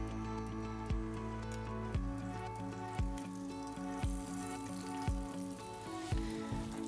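Sea bass fries in olive oil in a pan, giving a soft, steady sizzle under a low hum, punctuated by sharp, regular ticks about once a second.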